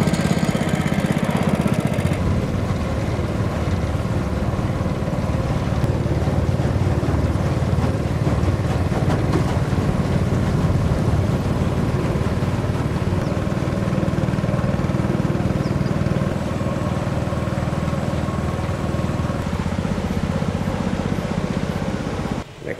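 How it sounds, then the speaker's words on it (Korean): A boat engine on the river at Luang Prabang, Laos rumbles continuously and loudly close by, a steady motor drone with faint water noise, no voices over it. "이렇게 배를 타고 가는데"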